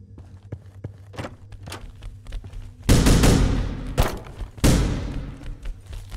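Pistol fire and other gunfire in the video game The Final Station: quiet footsteps and light taps, then three loud broadband blasts with decaying tails near the end, spaced about a second apart.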